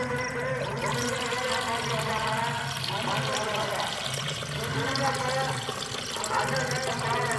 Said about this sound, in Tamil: நம்ம அரிசி கழுவுன தண்ணி இருக்கு பார்த்தீங்களா, அதவே ஊற்றிடணும்.